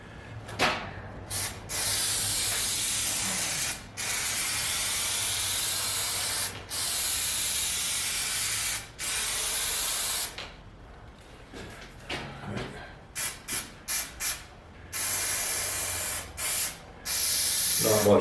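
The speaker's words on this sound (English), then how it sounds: "I have to spray both sides, the backer board and the back of the vinyl, and then fold it over" Spray adhesive is applied to a backer board and the back of a vinyl door panel for a 1966 Falcon wagon. It comes as repeated loud, close hissing bursts of several seconds each, split by short pauses and then by quicker, choppier spurts.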